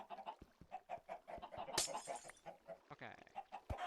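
A crowd of Minecraft chickens packed together cluck continuously in a rapid, overlapping stream, with scattered pops and a brief scraping burst partway through, fairly faint overall.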